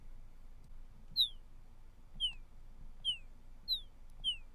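Five short, high descending chirps of a bird sound effect spaced about a second apart, fairly clear over a faint low hum, with no voices.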